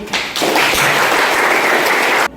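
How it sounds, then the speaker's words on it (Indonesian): A classroom breaks into applause for a student, a dense steady wash of many hands clapping close by for about two seconds, then stopping abruptly. "Kita aplaus dulu untuk Yuli."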